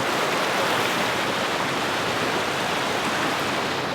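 River water rushes over a washed-out road on the Utah Backcountry Discovery Route, a loud, constant broadband roar with no pauses and no voices.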